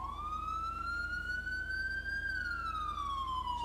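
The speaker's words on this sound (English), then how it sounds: "So that's your first siren" A police car siren in the FiveM game sounds as a loud, steady wail that rises slowly, holds high, then falls, with a low engine hum underneath.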